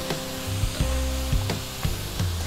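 Linguine sizzling in olive oil and garlic in a frying pan while a utensil scrapes and stirs it, giving several rhythmic knocks and scrapes over a steady sizzle.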